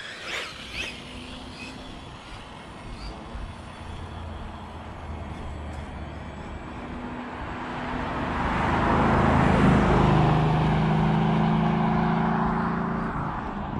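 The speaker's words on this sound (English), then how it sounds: "Here comes a car." A car passes along a road: a low, distant engine and tire rumble swells to a loud peak as the vehicle goes by, then holds a broad roar while it moves off, with no talk over it.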